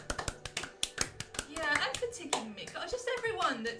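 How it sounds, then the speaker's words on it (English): A round of applause for a supporter, with several people clapping close by in a quick rhythm that builds into steady, dense clapping under a few brief voices. "let's give a round of applause for him"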